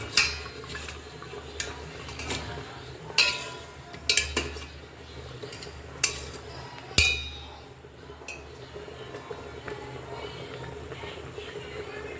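A spoon stirs curry with added yogurt in a metal pan, giving sharp clinks and scrapes against the pan at irregular intervals over a low kitchen background, with a louder knock near the middle.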